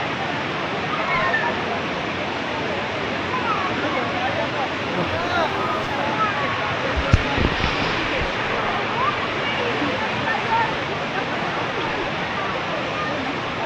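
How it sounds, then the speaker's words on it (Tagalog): Hagimit Waterfall on Samal Island roars as a loud, steady broadband rush of falling water, close and continuous throughout. "Nagamit waterfalls."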